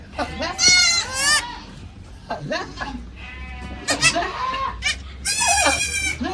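Karumbi dwarf goats bleat loudly and close, in several shrill, wavering calls spread through the clip, with brief pauses and some background voices.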